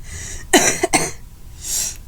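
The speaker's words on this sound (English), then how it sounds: "now I have horrible, phlegmy coughs" A person sick with ALS and heavy congestion lets out two wet, phlegmy coughs close to the mic, followed by a long breath.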